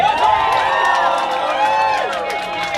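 A comedy club crowd cheers and shouts during an audience vote, loud overlapping voices and whoops sustained throughout, with a little clapping mixed in.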